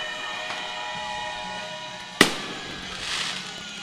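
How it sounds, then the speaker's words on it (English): Fireworks go off in the distance at a Hillsdale at Lucas high school football game, a steady rumble of bursts topped by one sharp crack. A long horn-like tone hangs underneath. "Get the fireworks ready."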